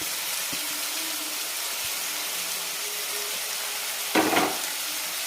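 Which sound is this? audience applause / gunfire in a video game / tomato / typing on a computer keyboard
tomato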